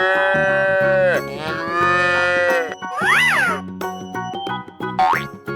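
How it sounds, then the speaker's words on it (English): A cartoon cow in a 3D animal slide video game moos loudly several times in a row, drawn-out tonal lows rising and bending, close and alone with no talk. "Cow."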